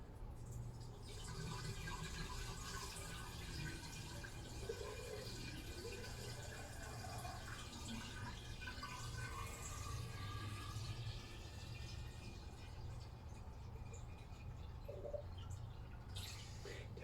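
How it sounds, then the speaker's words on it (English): Water from a watering can pours steadily into the cooling system of an old Lister D stationary engine, a continuous close trickling and gurgling that runs the whole time with no pauses. "let's put a bit of water in it first"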